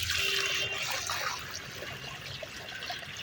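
Water poured onto soil makes a steady splashing, gurgling flow that starts strongest and then settles into a softer trickle, close by and with no voices.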